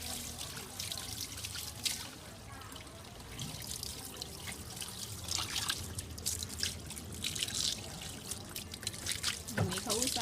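Warm water trickles and splashes steadily while a cat is bathed, a continuous wet patter with a voice talking intermittently over it.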